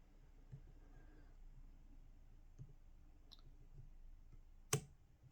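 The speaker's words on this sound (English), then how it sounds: "when I turned it back to the 0 position, we got a positive click" An Anchor Las 800-3 disc detainer padlock gives one crisp positive click as a disc is turned back to the zero position, following a few fainter ticks in an otherwise very quiet setting.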